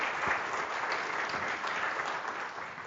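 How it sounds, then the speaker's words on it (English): An audience claps steadily through a university computer science colloquium, a dense, even wash of hands applauding for about three seconds at close range, with no voices over it. "So please join me in a hand of applause."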